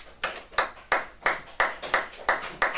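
Rhythmic hand clapping from a church congregation during worship, steady evenly spaced claps at a moderate tempo, fairly close and clear with no voices over them.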